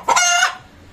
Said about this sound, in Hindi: आ रही यार मुर्गी की आवाज़ें आ रही हैं